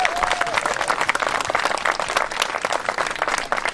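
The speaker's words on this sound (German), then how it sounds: "bitte auch einen Applaus für ihn" An audience at a 2018 garden YouTuber meetup in Erftstadt applauds for Max der Gartenknall: dense, even clapping from a crowd, close and loud, with no pause.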